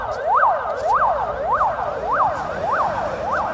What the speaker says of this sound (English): We've got an ambulance here.